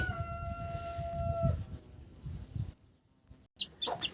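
Chickens and chicks cluck and murmur close by in a garden amid outdoor background noise, with a brief whine and a few scattered rustles toward the end.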